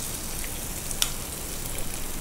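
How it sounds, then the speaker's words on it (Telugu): Garlic sizzling in hot oil for fried rice, a steady even crackle of frying with no breaks and one sharper pop midway, close and moderately loud, with no one talking. "ఆయిల్ కొంచెం వేడైన తర్వాత గార్లిక్ వేసుకోవాలి"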